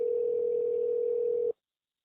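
A steady single-pitch telephone line tone on a Global Tel Link call holds loud and unbroken for about a second and a half, then cuts off abruptly into silence.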